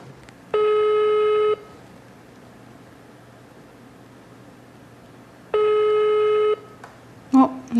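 An unanswered telephone call gives two ringback tones, each about a second long and several seconds apart, over faint line hiss, with a short burst of noise at the very end.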